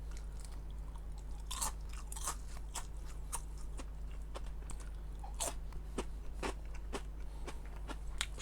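Steady crunching bites and chewing of a crispy salted egg fish skin snack, close to the mouth with irregular sharp crackles over a low constant hum, and no talking.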